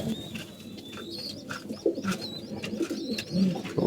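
Domestic pigeons coo softly nearby in a few short, low phrases, with faint chirps and small rustles around them.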